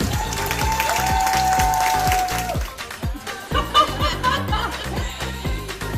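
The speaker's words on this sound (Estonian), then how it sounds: "Aplaus" Audience applause at the Estonian eyelash technician championship 2024, dense clapping under loud music that thins out midway, then rises again with a few scattered cheers.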